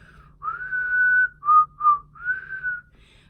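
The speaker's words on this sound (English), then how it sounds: "if you want to whistle, you have to pucker your lips together like this and blow through your lips" A person whistles through puckered lips, a clear pure tone in four phrases: a long held note, two short blips, then another sustained note, close and alone with no talk.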